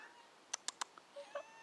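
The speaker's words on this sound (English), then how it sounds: "Hey, kitty cat." A cat meows softly several times in quick succession, short high-pitched calls close by in a quiet room, with no talking.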